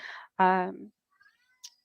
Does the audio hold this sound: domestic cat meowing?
yes